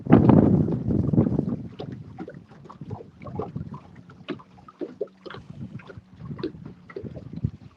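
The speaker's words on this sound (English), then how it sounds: "I can hear the wind picking up" Gusty wind buffets an open boat on Louisiana water, rumbling loudly at first and then easing into a steady rush with scattered knocks and rattles, close to the microphone.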